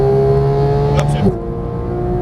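A Porsche 911 GT3 of the 991 generation drones loudly on track, its steady engine tone cutting off and dropping sharply at an upshift partway through, heard close from inside the car.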